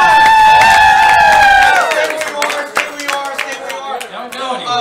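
A live game show audience claps and cheers loudly for a contestant, a dense burst of applause over a sustained musical chord that fades into scattered claps and calls.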